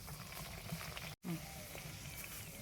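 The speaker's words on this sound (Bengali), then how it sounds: "তেল গরম হয়ে গেছে এবার প্রথম লুচিটা দিয়ে দিলাম" Luchi, a Bengali puffed flatbread, frying in hot oil: a steady, faint broadband sizzle with one brief dropout partway through.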